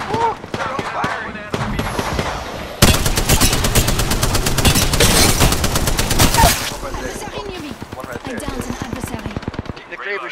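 Rapid automatic gunfire bursts and single heavy shots, including a Kraber sniper rifle, crackle through an Apex Legends match, loud and dense in the middle with scattered shots around it and game effects throughout.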